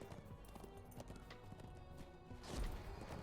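A mount's hooves clip-clop in the online role-playing game The Lord of the Rings Online, a steady fairly faint patter under game sounds, swelling slightly near the end.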